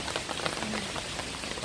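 Steady rain falls throughout a morning walk in a park, a dense, even patter of drops on surfaces close by with no voices.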